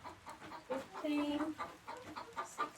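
A frizzle hen in a chicken coop gives soft, close clucks, with a person talking quietly nearby.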